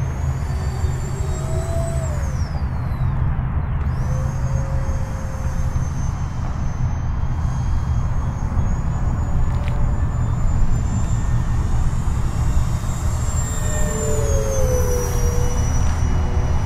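An E-flite Habu 50mm electric ducted fan model jet flies past with a steady high whine that rises and falls as it passes, heard outdoors against constant wind noise.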